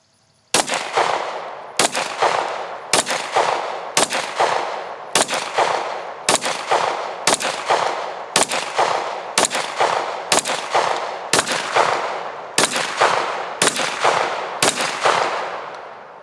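A Glock pistol fires about fourteen loud, sharp shots at a steady pace of roughly one per second, each crack ringing out with a brief echoing tail.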